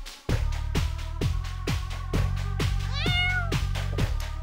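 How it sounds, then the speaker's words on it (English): Domestic cat meowing repeatedly at close range, about ten loud, clear meows in a quick steady rhythm, one rising into a longer wavering cry, with no talk over them. "What's going on, kitty? Good kitty, yes. Meow."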